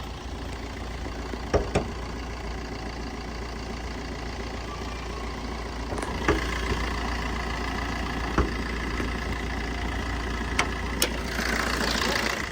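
A Maruti Swift Dzire ZDI diesel car idles with a steady, close, low mechanical hum and rattle, with a few sharp clicks and knocks on top.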